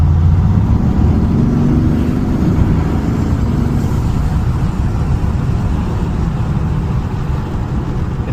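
A modified Mercedes-AMG GT S fitted with VRP 1000 turbochargers on a test drive, a loud, dense low engine rumble and road roar rolling on continuously from inside the car, with a faint turbo whine spooling underneath.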